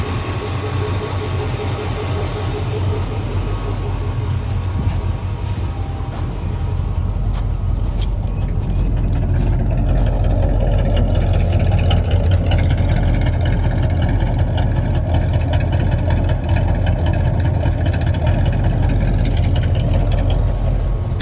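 A repaired engine running steadily with a slightly rich carburetor, a continuous low drone holding at a constant level throughout, with no talk over it.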